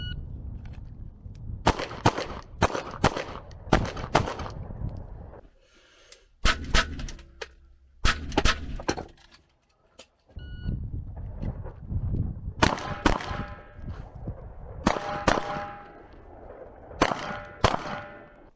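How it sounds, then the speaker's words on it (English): Beretta 92 pistol firing at an outdoor range: loud, sharp reports in quick strings of two to four shots separated by short pauses, each with a metallic ring, some shots nearly back to back. "not many pistols are as delightful to shoot as the Beretta"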